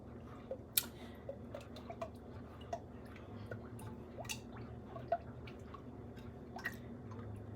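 A sea moss drink being stirred, soft wet swishing with irregular faint clinks and ticks of a spoon against the container, quiet and close.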